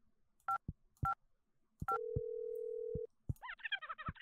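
Telephone keypad tones in the video game Hold the Phone: a few short single beeps, then one held tone for about a second, followed by a quick burst of rising electronic chirps, clear and isolated.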